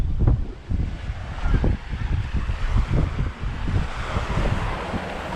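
Rough surf and strong wind at Public Beach on Grand Cayman: a constant windy rush with repeated low, buffeting gusts and wave crashes rolling through, fairly loud and with no voices.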